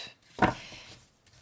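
A deck of oracle cards cut once with a single close, soft tap and slap as the cards meet, alone in a quiet room.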